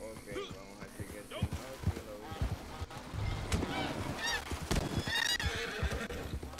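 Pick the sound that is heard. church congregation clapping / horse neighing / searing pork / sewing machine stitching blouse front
horse neighing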